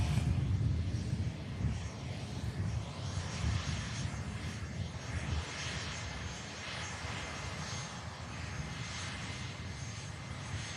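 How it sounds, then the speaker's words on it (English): An EasyJet airliner taxis at Manchester Airport, its engines giving a steady low rumble and hum heard from a distance, continuous throughout without talk. "Bit of a unique taxi line being used here, as it is EasyJet coming out from the"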